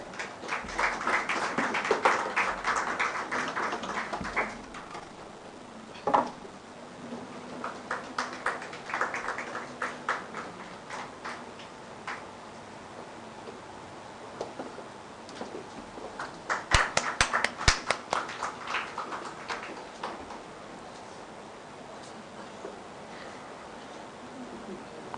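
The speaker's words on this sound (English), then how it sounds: "A loud applause for everyone." Scattered applause from the audience at a live youth forum on peace building and conflict resolution, several short bursts of clapping with quiet gaps between, moderately distant and fairly faint.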